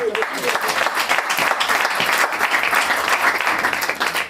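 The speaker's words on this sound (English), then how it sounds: "let's clap the hand" An audience at a Wednesday night couples' class on marriage claps steadily, a dense sustained round of applause throughout with some voices underneath.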